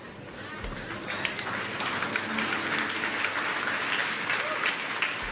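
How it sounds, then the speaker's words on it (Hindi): Women in a church congregation applaud, a loud, dense and continuous patter of many hands clapping close by, with a few sharper claps near the start. "सबसे पहले तालियां बहनों ने बजाई"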